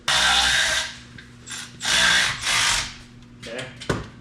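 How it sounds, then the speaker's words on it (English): An impact ratchet tightens a 15 millimeter bolt on an engine being fitted to a rat rod wrecker, giving loud, close bursts of whirring and rattling with short gaps between them and a sharp clank near the end. "Let's get a wrench on it and pull it in tight so it holds that 15 millimeter on that ratchet, impact ratchet."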